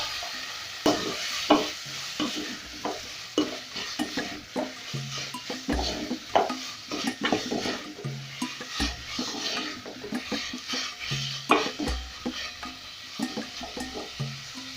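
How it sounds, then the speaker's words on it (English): Beef frying with garlic and dania (coriander) stems for mchele waru vegetable rice, a steady sizzle broken by repeated scraping stirs and clinks of a utensil against the pot, close and continuous without speech. "I'll add in my garlic and my dania stems. Then I'll add in my beef."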